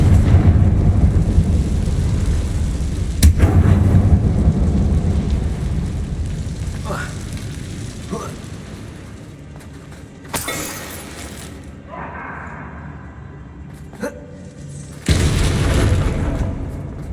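A booming blast from the Confringo fire spell in the Hogwarts Legacy video game, heavy rumbling explosions with sharp cracks and debris bursts amid game sounds, some brief and others rolling over several seconds.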